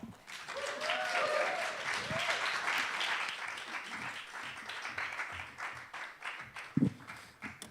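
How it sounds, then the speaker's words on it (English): An audience at The Bedford, a live stage venue, claps and applauds steadily for several seconds, dense clapping that thins toward the end, with a few cheers mixed in. "So put a little extra love and energy into your applause, please."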